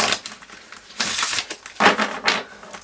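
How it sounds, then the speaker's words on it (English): A deck of tarot cards is shuffled by hand, giving close, loud papery bursts of riffling and crinkling in three or four short runs. "let's shuffle these"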